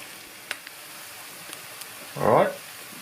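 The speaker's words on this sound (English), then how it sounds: "You can get curry leaves and fenugreek seeds in hot oil." Curry leaves and fenugreek seeds hit hot oil while cooking a Sri Lankan tripe curry, giving a short, loud burst of sizzling near the end after a quiet stretch.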